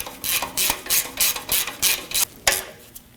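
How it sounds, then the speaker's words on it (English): A ratchet clicks in quick, even bursts while a bolt is tightened under a 2003-2006 Subaru Baja, close by with brief pauses between the strokes. "Now we can go ahead and tighten up the bolt."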